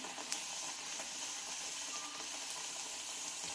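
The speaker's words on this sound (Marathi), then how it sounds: "एक साईड पूर्णपणे आपल्याला फ्राय करून घ्यायचं आहे" Urad dal vada frying in hot oil, a steady quiet bubbling sizzle and hiss that continues without break, with a couple of faint ticks near the start.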